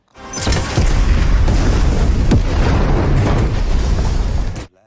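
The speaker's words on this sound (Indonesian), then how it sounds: "Patan sudah mempersiapkan bom dan meledakkan jembatan gantung." One huge, close boom as a bomb destroys a suspension bridge in an Indian film, swelling into a sustained roaring rumble of blast and falling debris that stops abruptly.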